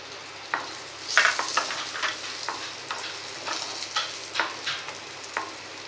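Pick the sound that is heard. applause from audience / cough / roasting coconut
roasting coconut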